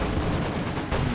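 Steady rattling gunfire from Panzer Fusiliers in the strategy game Company of Heroes 2, a short, continuous burst of overlapping shots at moderate loudness with no voices.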